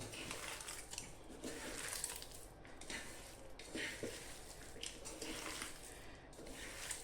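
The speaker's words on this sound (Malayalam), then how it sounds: "പക്ഷെ നമ്മളിവിടെ അല്പം വെള്ളം ഒഴിക്കുന്നുണ്ട് കേട്ടോ" Water pours into a pan of beef roast amid clinking of pots and utensils, a soft running splash with intermittent metallic knocks, close and fairly quiet.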